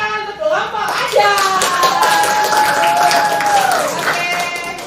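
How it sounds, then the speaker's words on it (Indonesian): Classroom applause for a student group, a steady patter of clapping hands lasting throughout, with children's voices and whistly tones mixed in nearby. "Beri tepuk tangan untuk kelompok aja"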